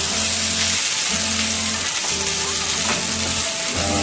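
Loud, continuous sizzling of liquid hitting a hot pan, a bright hissing wash with a rhythmic low thumping underneath.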